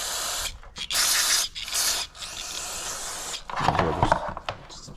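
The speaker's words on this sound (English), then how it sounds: "I'm gonna hit some carb cleaner on there." Several long hissing bursts of aerosol carburetor cleaner sprayed onto the FCR 37 carburetor of a 2006 Kawasaki KX250F, close and loud, separated by short pauses, with some rubbing and handling noise near the end.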